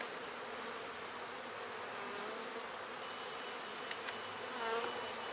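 Honeybees hum in a dense, steady buzz around an open hive during a hive inspection, faint and continuous with no voices.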